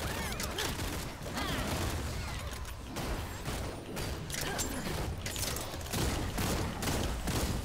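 A Gunslinger fires the agile shooting skill during a Lost Ark guardian raid: rapid bursts of gunfire mixed with mechanical clicks and ratcheting effects in dense, continuous game combat with no talk.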